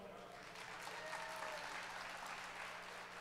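An audience at a stage show applauds, a soft, steady wash of clapping heard faintly from a distance for a few seconds.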